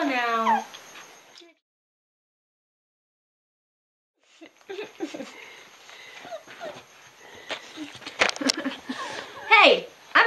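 A young puppy whimpers and yips in short high bursts, near and clear at first, then a pause, then scattered yips and scuffling under people talking.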